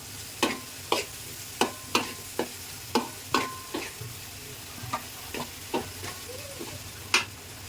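Dried fish cooked with spices and garlic scrapes under a spoon in about fifteen sharp, evenly spaced stirring strokes, with a soft frying sizzle underneath.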